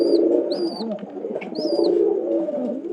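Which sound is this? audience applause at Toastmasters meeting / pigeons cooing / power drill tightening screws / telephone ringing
pigeons cooing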